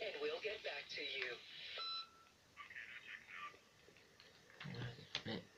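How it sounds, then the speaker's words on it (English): In the Payday 2 video game, a short electronic answering machine beep sounds after a recorded voice message, the voice talking before it and a brief tone following. "Please leave a message after the beep and we'll get back to you."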